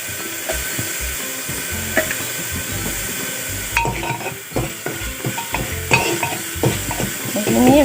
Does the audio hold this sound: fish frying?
yes